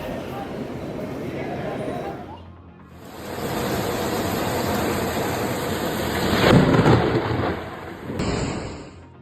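Thunderstorm over Zapopan with heavy rain and strong winds: a constant roaring wash of rain and gusts, with deep rumbling thunder that swells louder toward the end.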